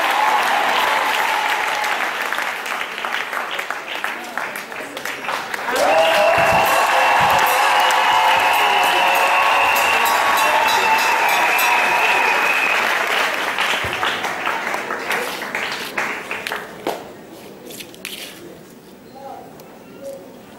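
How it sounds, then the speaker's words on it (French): A church congregation bursts into sustained applause and acclamation, loud and continuous for about seventeen seconds with cheers and whoops, then thinning to scattered claps as it fades out. "Acclame le Seigneur"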